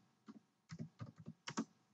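Keys on a computer keyboard being tapped while Java code is typed, in short irregular bursts of clicks with small pauses between them, close and fairly quiet, with no voice.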